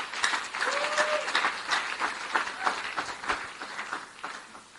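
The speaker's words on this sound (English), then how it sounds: "Please, can you give him a round of applause?" An audience at a church gathering breaks into sustained applause, a dense, steady clatter of many hands with a few louder claps and faint crowd noise underneath.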